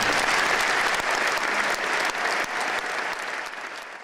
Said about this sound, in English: The round of applause by participants was non-stop after each sentence.